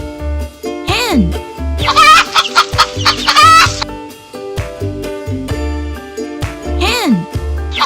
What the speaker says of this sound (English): Hen.